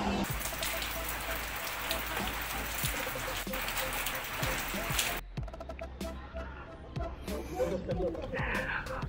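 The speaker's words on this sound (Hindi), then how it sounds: "बारिश अभी तक आ रही है" Steady rain falls over a busy Daryaganj market street in Delhi, a dense continuous hiss throughout that thins abruptly midway into sparser dripping and patter, with faint background voices.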